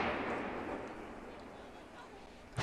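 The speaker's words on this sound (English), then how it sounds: "Bright orange flashes seen through the smoke as the cannons continue to fire." Ceremonial cannon fire at a governor's inauguration on a Capitol lawn: a fading low rumble from a distant boom rolls away, then a sharp new blast hits at the end; outdoor, echoing.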